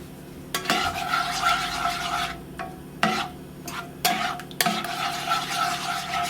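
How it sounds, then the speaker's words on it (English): Cheesy scrambled eggs with grated cheese being stirred in a pan over medium heat, a soft continuous scraping and rubbing with a few louder spatula knocks against the pan, close up with no voices. "Now just keep stirring."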